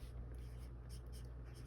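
Pen scratching numbers onto paper in a few quick, faint strokes close by, with a low steady background hum.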